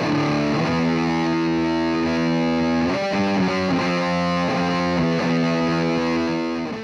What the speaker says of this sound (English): This is a distortion pedal